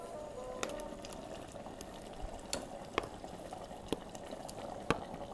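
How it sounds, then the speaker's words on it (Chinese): Tomato sauce in a pot on a portable gas cassette stove simmering and bubbling softly, a faint low wash with occasional sharp clicks and pops standing out from the quiet background. "我们把它放到这个卡式炉上面，把它煮滚。"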